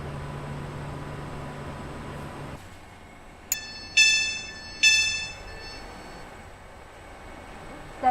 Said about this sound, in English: This train is formed of 11 coaches.